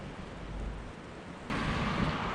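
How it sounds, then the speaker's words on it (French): Heavy rain pours down outdoors in the Cinque Terre at Riomaggiore, a dense steady hiss with low rumble that swells louder halfway through, with no voices. "il fait un temps de chiottes. Il pleut grave."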